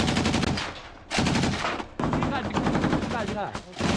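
Automatic and single-shot gunfire in combat under mortar and tank shelling, loud and close, with rapid bursts filling most of the stretch and a few brief breaks between volleys.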